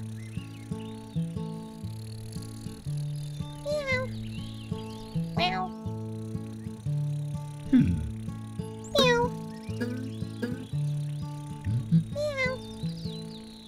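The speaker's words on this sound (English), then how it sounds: "Help! Help! Kitten! Kitten!" A cartoon kitten in the Endless Reader word-learning game lets out several rising and falling meows over cheerful looping game music.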